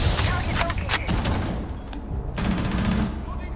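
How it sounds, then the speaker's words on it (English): Rapid gunfire from a competitive shooter video game match, dense volleys of shots crackling continuously with brief gaps, loud and close, with faint voices underneath. "Shots go off."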